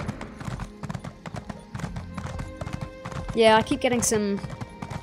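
Horse hooves clip-clop in a rhythmic series in The Elder Scrolls Online, a mount passing near, followed by a brief whinny, with someone talking over part of it.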